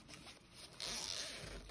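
The front zipper of a fabric stationery bag is pulled closed in a quiet room, making a faint, brief, close-up zipping rasp that grows slightly louder partway through.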